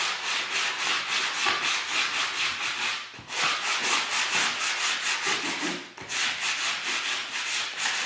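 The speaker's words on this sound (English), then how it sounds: "So I'm just going to diagonally sand this like this." Hand sanding of milk-painted wood, worked diagonally with the grain, giving a rhythmic scratchy rubbing in quick regular strokes, close and steady, with two short breaks.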